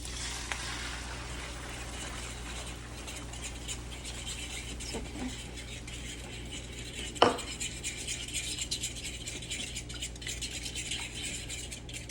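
Eggs scrambled in a hot pan after sausage, with repeated scraping and stirring strokes of a utensil against the pan over a steady low background hum, one sharper clink midway.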